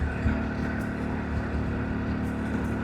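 A motorcycle climbing uphill on a mountain road in Himachal's Kangra Valley: a steady, droning engine hum at close range, a low motor rumble with wind noise over it and no talking.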